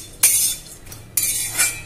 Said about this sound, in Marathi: आता आपण त्याच्यामध्ये खोबरं टाकूया, चांगलं परतून घ्यायचं आहे लाल होईस्तोवर